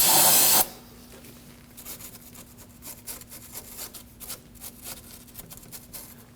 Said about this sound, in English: I'm just going to use a little bit of brake cleaner and a brush for this.